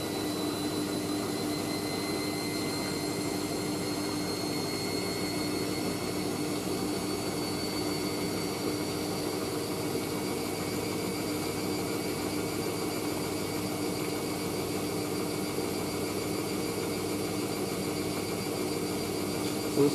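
Hoover SIX AAA160 Whisper 1600 washing machine running a heavy 50°C synthetics cycle, a steady loud motor whine with broadband whirring that holds without a break, slightly unbalanced, with no talking.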